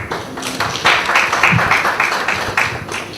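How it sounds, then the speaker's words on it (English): Audience applause at a public dialogue in Kenya on violence against women in politics, a steady burst of clapping from a seated crowd lasting a few seconds at moderate loudness. "A clap for him."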